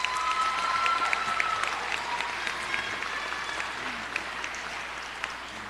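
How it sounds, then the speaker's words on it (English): A large audience applauds nursing graduates at a BSN pinning ceremony, a dense, steady wash of clapping that holds evenly throughout with a few distant whoops or voices mixed in. "Big round of applause for them."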